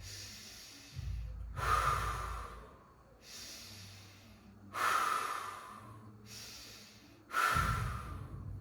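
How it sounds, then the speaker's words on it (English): Slow diaphragmatic breathing at light effort: three long, audible inhale and exhale cycles, each breath rushing in and out through the nose and mouth, close and unhurried, with quiet pauses between. "Inhale, exhale all the way."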